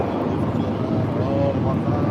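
Helicopters flying over a Hong Kong street, a steady broad rumble and rotor wash heard outdoors with wind buffeting the microphone.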